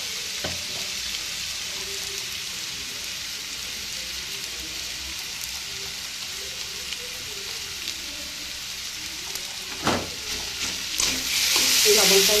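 Salt is stirred into chana dal in a pot, a steady close simmering sizzle with intermittent scraping strokes of the spoon that grow louder near the end, no talk.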